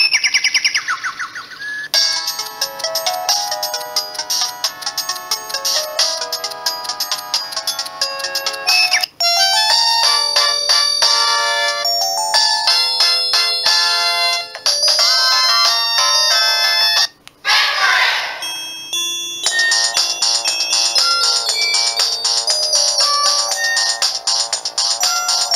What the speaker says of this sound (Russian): Было 38 рингтонов в C100, а здесь всего 25.